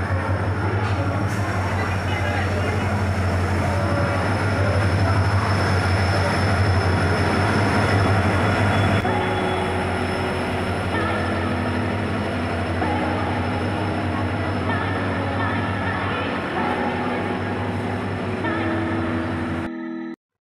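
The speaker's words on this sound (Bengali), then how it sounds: "আমার ট্রেন কিন্তু অলরেডি স্টেশনে ঢুকছে" The Tejas Rajdhani Express rolls into an Indian railway station with a steady loud rumble of wheels on rails and a low engine drone, plus whistle-like tones and station clatter, lasting about twenty seconds before cutting off.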